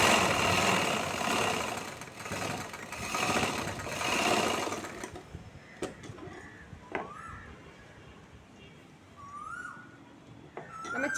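A sewing machine whirs steadily while stitching the folded hem of a chudithar, running for about five seconds before stopping, after which quieter clicks, handling noises and faint bird chirps remain.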